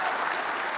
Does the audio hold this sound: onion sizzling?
no